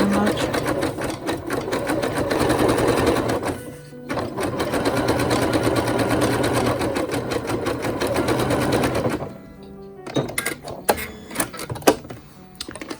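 A sewing machine stitches fabric for a simple skirt in a loud steady whir for about nine seconds with a brief pause near four seconds, then falls to short, uneven bursts and clicks toward the end.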